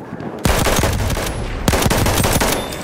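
Enemy machine gun fire in the video game Battlefield 1, Domination mode on the Soissons map: two close, loud bursts of rapid automatic shots, separated by a brief pause.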